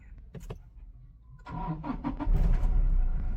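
A Toyota Innova Crysta engine cranks and catches, starting up after a moment and settling into a loud, steady running rumble close by.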